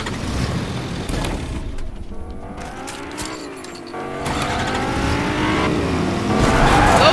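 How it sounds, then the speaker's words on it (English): A car driving in the Fortnite video game, with a steady engine drone that shifts pitch as it revs and accelerates, plus occasional tire skids, loud and continuous with no talking. "That car he's driving right now, that is one of the better cars."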